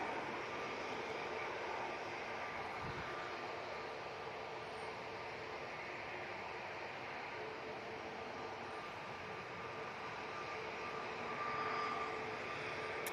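Steady broadband roar of airliner jet engines at Manchester Airport, continuous and fairly distant, holding an even level throughout with no talk.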